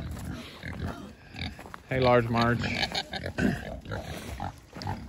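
Farm pigs grunt and oink close by in a series of snorts and squeals, mixed with a person speaking to them.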